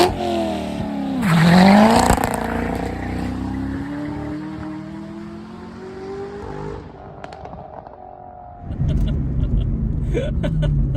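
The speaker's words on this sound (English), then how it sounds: "Supposed to give it full throttle and then let out quickly on the clutch," A C6 Corvette ZR1 launches at full throttle as the clutch is dropped, a loud close engine roar climbing sharply in pitch, then a long pull and shifts fading before a burst of rumbling noise at the end.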